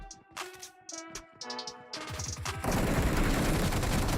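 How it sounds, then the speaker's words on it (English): Gunfire in the PUBG Mobile video game: scattered single shots and short bursts build into a dense, loud, sustained volley of rapid fire. "A little pre-fire from Chosen One might have been his undoing. He is able to get a reload off at the very least."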